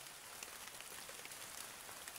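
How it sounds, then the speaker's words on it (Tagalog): Rain pours steadily as a faint, even hiss of drops with no voices. "Grabe talaga umuulan."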